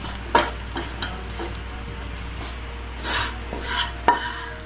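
Grated coconut sautéed in a pan sizzles softly and steadily nearby, broken by a few sharp spatula clicks against the pan and brief scraping swishes as it is stirred.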